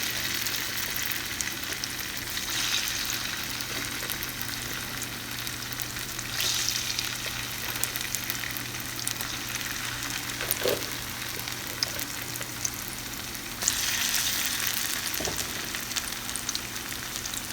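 Amla gooseberries fry in a generous amount of hot oil for pickle, a continuous close bubbling sizzle that swells and settles in waves, with occasional light stirring and no talking.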